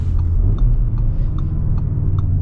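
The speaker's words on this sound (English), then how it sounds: "those are aggressive downshifts, if I've ever heard them" A 2026 Audi RS3's five-cylinder engine rumbles loud and close while driving through aggressive downshifts, with a deep, continuous drone.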